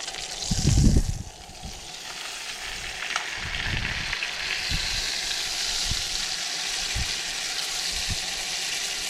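A steak fries and sizzles in a pan during car camping, a steady crackling hiss with a louder burst of sputter near the start and scattered pops throughout, close and with no talk.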